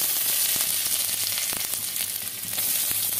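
Chopped onion hits hot oil in a home kitchen pan, producing a loud, steady, close hiss and crackle of frying that continues without a break, with faint stirring taps underneath.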